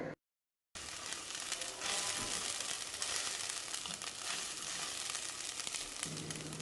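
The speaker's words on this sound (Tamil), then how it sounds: "வெங்காயம் இந்த அளவு வதங்கினாக்கில் இஞ்சி பூண்டு பேஸ்ட் சேர்த்துக்கணும்" Ginger garlic paste sizzling loudly in a pan with softened onions for a chicken salna, a steady broadband frying hiss after a brief silent break, close and continuous with no talking.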